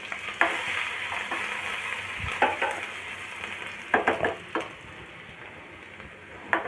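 Garlic sautéing in hot oil for Korean chilli garlic potato noodles hisses steadily up close, broken by sharp clacks and scrapes of stirring at irregular intervals, with no talk.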